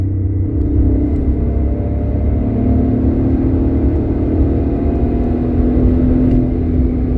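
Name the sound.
car driving and accelerating with widely spaced gears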